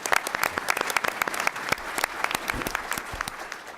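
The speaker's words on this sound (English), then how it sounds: "Let's give them a big round of applause." An audience at the National Academy of Engineering annual meeting forum gives a round of applause, many hands clapping in a lively, uneven patter across the hall, moderately loud with no talking over it.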